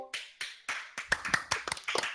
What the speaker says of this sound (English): Everybody clap for that man right now.